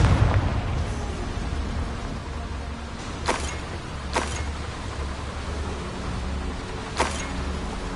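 Fiery blasts from the Confringo spell in Hogwarts Legacy go off amid a constant rumbling battle din, a heavy burst at the start followed by three sharp crackling impacts spaced a second or more apart.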